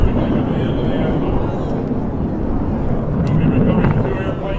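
A steady, loud roar from an F-15E Strike Eagle fighter jet passing over an airshow at the close of the anthem, with heavy wind buffeting on the microphone throughout.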